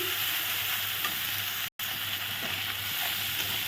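Chili powder stirred and frying in a pan, a continuous close sizzle and hiss with light scraping from stirring, interrupted by one brief cut of silence.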